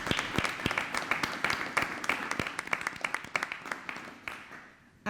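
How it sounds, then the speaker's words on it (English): At an Oklahoma Aeronautics Commission meeting, a modest group applauds the staff with distinct, sharp individual claps that gradually thin and die away. "let's give the staff a round of applause for their hard work"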